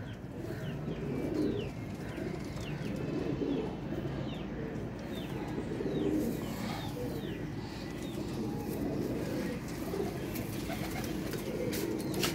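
A flock of about 22 long-feathered flying pigeons coos in soft, repeated low calls, with occasional chirps and faint rustling, fairly close and without any talking.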